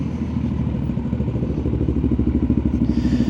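A Yamaha motorcycle fitted with a Scorpion exhaust, heard in traffic as a steady low rumbling idle with a rapid, even pulsing beat, close and fairly loud throughout.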